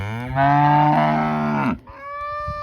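A cow offered for sale among a herd of cattle lets out a long, loud, close moo, then gives a shorter, quieter second low after a brief break.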